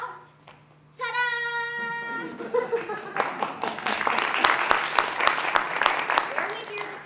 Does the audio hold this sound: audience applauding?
yes